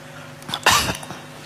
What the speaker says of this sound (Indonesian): Ini batuk, syukur jarang batuknya.